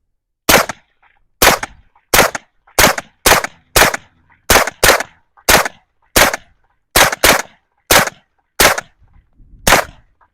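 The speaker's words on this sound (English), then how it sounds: "shooting this thing suppressed is super fun" A suppressed B&T GHM9 fires fourteen sharp, loud shots spaced about half a second to a second apart, each a crisp crack with a short decay, and silence between them.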